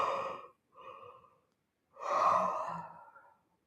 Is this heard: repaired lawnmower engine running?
no